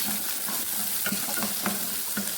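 Four garlic cloves frying in a pan, giving a dense, continuous sizzle with faint crackles and light scrapes of a spoon, close up and steady.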